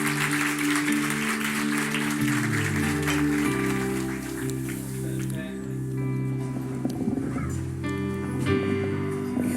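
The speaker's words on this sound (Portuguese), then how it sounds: "Aplauda o Senhor." A church congregation applauds during a worship service, steady continuous clapping mixed with sustained music or organ-like tones underneath, moderately loud throughout.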